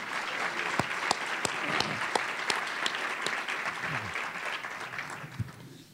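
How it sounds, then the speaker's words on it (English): A room full of people clapping steadily, a dense wash of applause with a few sharper individual claps standing out, sustained throughout. "why don't you stand up so we can really applaud you and thank you for being here"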